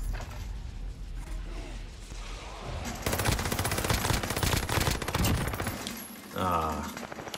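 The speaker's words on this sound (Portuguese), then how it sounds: "Ele tá atirando." In the Call of Duty Warzone video game, a few seconds of dense automatic gunfire crackle over ambient game noise, followed by a brief rustling mechanical sound.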